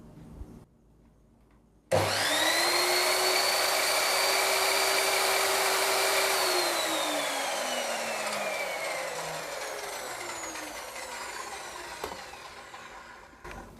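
A Bitec MSM1710 10-inch sliding miter saw spins up sharply to a loud, steady high whine with strong harmonics, runs alone for several seconds, then winds down as the pitch slowly falls.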